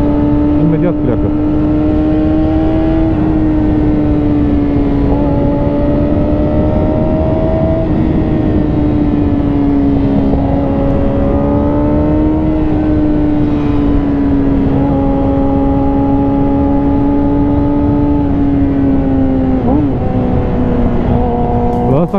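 A 2006 Yamaha R6 motorcycle engine, close and steady, revving up and down in repeated swells over a constant drone, with a person talking over it.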